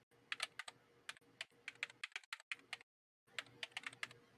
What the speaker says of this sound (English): Typing that in the chat.